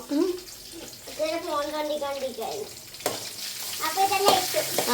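A spoon scrapes and stirs rice and cabbage in a pan, making soft scraping and sizzling sounds while a person keeps talking over the cooking.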